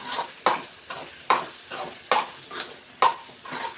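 A spoon stirs coconut powder into thickened chicken gravy in a pan, scraping and clacking in a steady rhythm of about nine strokes under a soft sizzle, close and moderately loud with no talking.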